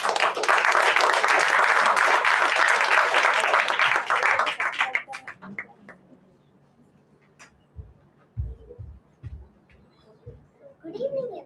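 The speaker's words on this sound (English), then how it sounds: "Let's give a loud cheer for Arinya." An audience at a school solo graduation performance applauds and cheers loudly for a young performer, a dense sustained burst that fades out after about five seconds, followed by scattered faint knocks and a quiet voice near the end.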